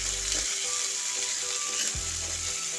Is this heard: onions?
yes